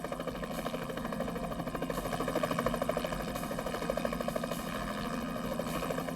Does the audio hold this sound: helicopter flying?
yes